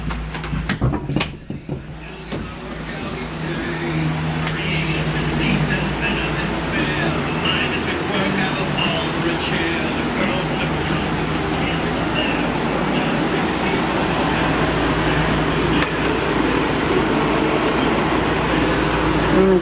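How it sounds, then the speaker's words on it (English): Living room air conditioner running on high, a steady loud whooshing roar with a low hum underneath, starting after a few seconds of clatter and continuing evenly throughout. "this living room air conditioner has been turned on high"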